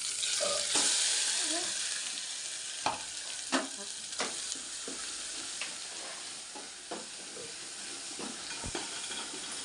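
Ground black masala dropped into hot oil for a Maharashtrian amti, a steady close sizzle and hiss with scattered sharp pops and spatters of spoon stirring throughout.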